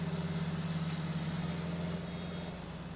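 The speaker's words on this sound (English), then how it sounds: "why does that tractor get all suddenly louder?" A tractor engine in a farming video game with silage bales drones at a steady idling pitch, quiet and continuous, with no clear rise in volume.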